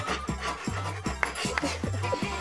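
A dog pants hard and whimpers while attacking a reporter, rapid rhythmic breaths close and loud, with scuffling and a few brief voices mixed in.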